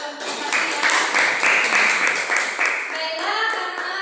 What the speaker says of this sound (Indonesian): beri tepuk tangan sama kelompok satu ya